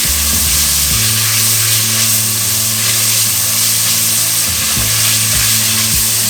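Bacon fries in a pan with a loud, dense, continuous sizzle, close up, while a low steady hum runs underneath and nobody speaks.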